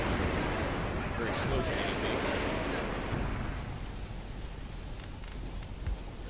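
Artillery shells burst close to a tank in Graviteam Tactics: Mius Front, heavy rumbling blasts with dense crackling debris over steady battle noise, loud at first then easing slightly, with a voice talking over it.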